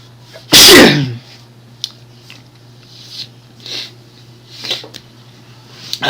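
A single loud, close sneeze bursts out early, followed by quiet room tone with a few faint rustles and clicks.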